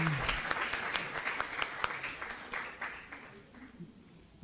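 Applause from an audience honouring authors at a Spiritist book event, a moderate scattering of claps that fades gradually over a few seconds, with some background voices.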